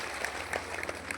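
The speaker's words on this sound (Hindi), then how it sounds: "इनका धन्यवाद करो, ताली बजा करो।" Audience clapping at a Devi Bhagwat Katha religious gathering in a village temple, a brief steady patter of many hands, moderately close and continuous.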